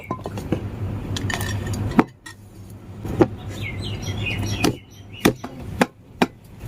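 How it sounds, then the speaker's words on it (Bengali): A Bengali sweet made without chhena is turned out of its mould onto a metal plate, giving a series of sharp knocks and clinks spaced over several seconds, close by and with no talking. "এখন আমি মিষ্টিটা একটি থালার মধ্যে বের করে নেব"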